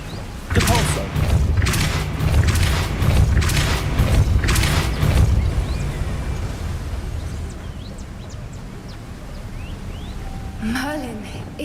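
Depulso spell cast in Hogwarts Legacy, a series of heavy booming thumps in quick succession followed by a fading rumble and scattered magical chimes near the end.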